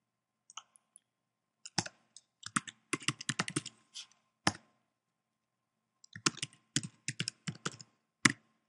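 Quick bursts of typing on a computer keyboard as a few words are entered: crisp, close clicks in uneven runs, separated by short pauses, with one sharper keystroke near the end.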